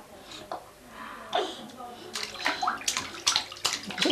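Water splashes and sloshes in a bath while a small child plays, with irregular splashes growing more frequent toward the end under bits of voice and breathing.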